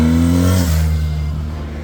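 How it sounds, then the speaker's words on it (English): A new motorbike engine revs loudly and close by with a strong tonal whine that drops in pitch partway through, then settles into a lower steady running note. "Do a rev pump."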